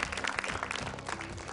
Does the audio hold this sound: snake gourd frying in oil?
no